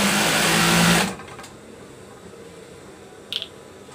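A sewing machine stitches a duvet cover in a loud, steady buzzing run that stops abruptly after about a second, followed by quiet handling noise and a brief faint click.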